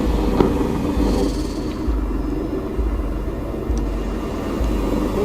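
An aircraft in Arma 3 circles a runway, giving a steady loud engine drone with a low rumbling undertone that pulses slightly, continuous and close throughout.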